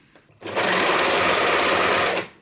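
An overlocker sews fabric for an armchair cover and trims the excess as it goes: one continuous, loud mechanical whir that starts abruptly, holds steady for about two seconds, then stops.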